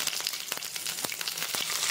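Mustard seeds and fresh curry leaves crackle and spit in hot oil for Indori poha, with dense sizzling and rapid popping bursts close up.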